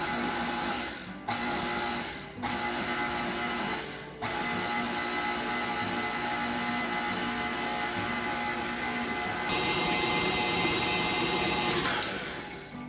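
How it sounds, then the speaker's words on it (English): An electric stand mixer fitted with a paddle attachment beats icing sugar for a no-bake vegan cheesecake truffle mixture, a steady motor whir running continuously and rising to a brighter, faster pitch as the speed is increased near the end. "I'm going to use the paddle attachment for my mixer as well"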